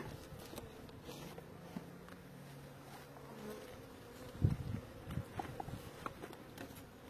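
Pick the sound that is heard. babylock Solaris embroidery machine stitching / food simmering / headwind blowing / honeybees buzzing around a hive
honeybees buzzing around a hive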